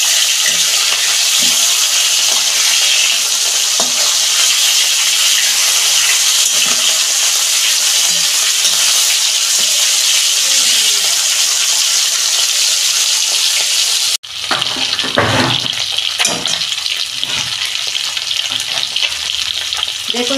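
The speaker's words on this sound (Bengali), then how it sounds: "মাছগুলো আমি উল্টে দিচ্ছি।" Fish frying in oil in a pan, turned over partway through: a steady loud sizzle fills the first fourteen seconds, then drops sharply and resumes with scraping, clattering turns and a softer, uneven crackle.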